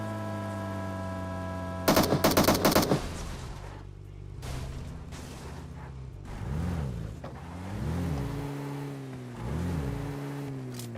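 A car in the PUBG Mobile video game revs in repeated rising and falling surges after a burst of rapid gunfire, the engine drone rising and fading as it drives.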